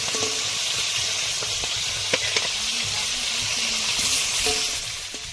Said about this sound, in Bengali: মাছ ভাজা হয়ে গেছে খানিকটা